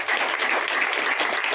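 An audience at a business gathering breaks into loud, sustained applause. Dense, even clapping fills the whole moment with no pauses.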